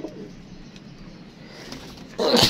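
Paired pet pigeons coo softly in a loft, a low murmuring burble over faint room noise, ending with a brief louder rustle.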